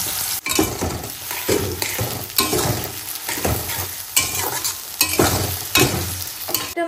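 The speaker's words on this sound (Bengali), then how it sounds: "এবার দিয়ে দেবো পেঁয়াজ কুচি।" Chopped onion sizzles and fries in a hot pan after potatoes, with a utensil stirring and scraping in steady repeated strokes, loud and close with no talking.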